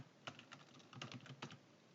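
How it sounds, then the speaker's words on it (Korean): Quick, soft clicking of computer keyboard keys being pressed, including an Alt and Enter combination, in a steady burst of taps close to the microphone, with no talking. "키보드에 Alt 누른 상태에서 엔터 눌러주면 줄바꿈 돼요"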